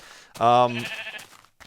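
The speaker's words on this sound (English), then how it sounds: "Ooh, a brown sheep." A sheep in Minecraft gives one loud, close, wavering bleat, which then trails off into quieter noise.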